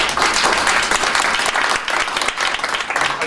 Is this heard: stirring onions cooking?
no